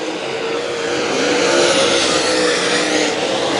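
Race cars roar around the Lakeside Speedway oval in an MLRA series event, a dense, loud, sustained engine drone that swells slightly mid-way as the pack passes, with no voices.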